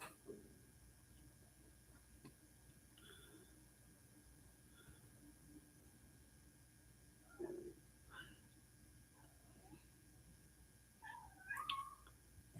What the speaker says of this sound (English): Yeah, I hear my cat.